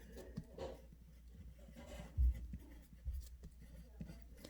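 Pencil scratches across a worksheet in short, faint strokes, close by, with a few light taps against the desk.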